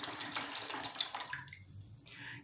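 Water is poured off settled plaster of Paris in a sculpting mold, a steady splashing trickle that tapers into faint drips and a short final pour.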